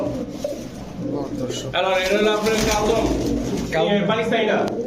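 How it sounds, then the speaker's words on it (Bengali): Pigeons coo over and over at a seller's stall stocked with fancy breeds such as Indian and local kakji, laldom, Pakistani kaldom and Rampuri birds. The bird calls stay loud and close, clustered layers in the middle and near the end, over constant background bustle. "খুব কোয়ালিটিফুল কিছু কবুতর আছে"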